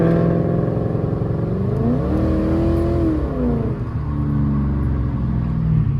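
A hot-rod Lincoln's engine roars loud and close, revving up with rising pitch as it accelerates, then settling back to a steady heavy drone, with no voices over it.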